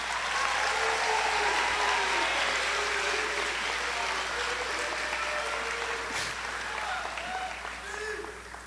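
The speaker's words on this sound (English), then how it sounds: "So let's give a round of applause to all the staff and family." Crowd applause at a 2025 high school graduation ceremony, a sustained steady clapping that tapers slowly, with some voices and cheers mixed underneath.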